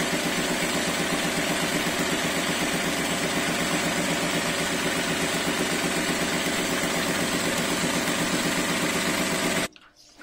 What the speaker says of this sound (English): is a twin needle machine with two rotary hooks and a special piercing and punching attachment